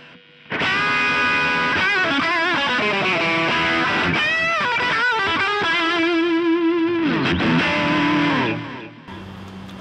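Electric guitar through a multi-effects unit with delay set to a reduced mix, playing sustained, bending distorted notes with chorus-like shimmer and trailing echoes, loud and continuous before fading out at the end.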